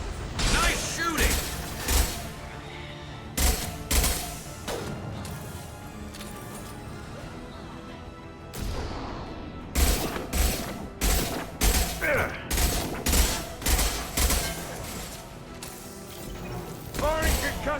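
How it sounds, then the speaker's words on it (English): A concussive shot and gunfire in the video game Mass Effect 2: a run of heavy, evenly spaced blasts in quick succession, with scattered other shots and voices talking. "Firing concussive shot"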